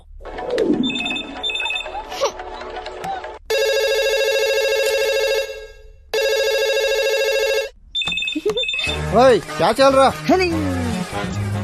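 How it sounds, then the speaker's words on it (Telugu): A telephone rings loudly in two long electronic bursts, followed by warbling tones and brief beeps. "చిట్టిగాని మిస్సర్ కాల్ ఈ ఫోన్ కాడే చేస్తున్నట్టున్నాడు"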